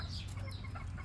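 Chickens and roosters crowd close by outdoors, clucking in a quick, busy burst of overlapping calls.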